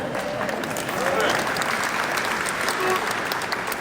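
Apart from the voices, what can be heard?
crowd applauding at a ribbon cutting ceremony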